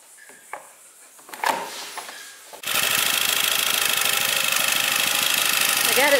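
A vehicle engine cranks and starts after some faint knocks and a clunk, then settles into a loud, rough, rapidly pulsing idle close by; a voice is briefly present.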